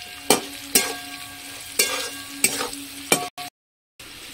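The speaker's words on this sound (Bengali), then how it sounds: "আলুগুলো আমার ভাজা হয়ে গেছে" Potatoes fry in a pan with oil, stirred by about five crisp, evenly spaced spatula scrapes over a soft continuous sizzle, close up, ending in a brief silence.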